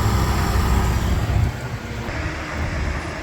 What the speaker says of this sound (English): Oh, it's trash truck day.